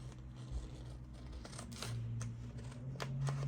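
Scissors cutting paper junk journal pieces close up, several short snips and rustles of paper scattered over a few seconds with no talking.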